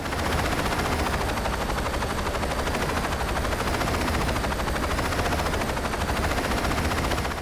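Helicopter rotor drone and rapid machine-gun fire from the video game Saints Row 2, a dense, continuous roar at steady loudness with no talk.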